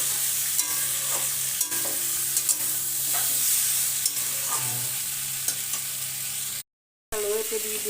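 Potato and cauliflower fry in a pan as hot water is poured in and the mixture is stirred, giving a steady sizzle with repeated spoon knocks against the pan, close and loud, then a short cut of silence before bubbling resumes.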